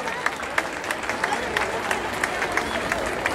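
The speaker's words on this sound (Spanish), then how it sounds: "Fuertes los aplausos para nuestro señor alcalde municipal." Applause for a town mayor at a municipal welcome event, a crowd clapping steadily with sharp individual claps standing out, moderately loud, with a voice speaking faintly underneath.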